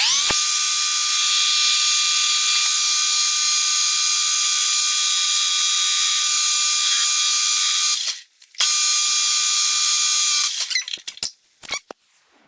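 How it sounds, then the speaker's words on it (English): A drill reams holes to fit zinc-coated cast bolts for 1984 Toyota steering linkage, giving a loud, steady whine for about eight seconds, a brief pause, then another run that ends in stuttering bursts as it winds down. "I like to run a drill because they're just a little tight on the OD"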